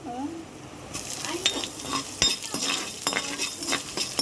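A tempering of cumin seeds, chana dal, urad dal and dried red chillies frying in hot oil for aloo fry, a crackling sizzle starting about a second in, with spoon scrapes and clinks against the pan.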